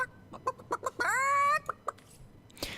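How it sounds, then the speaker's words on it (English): A chicken in the Divinity: Original Sin Enhanced Edition video game clucks in a rapid series of short, close calls, broken by one longer drawn-out squawk in the middle. "Why did you let my chicken escape?"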